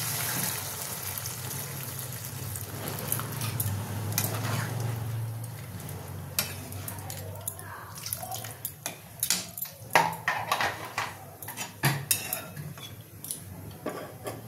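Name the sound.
water poured into pan of cooking potatoes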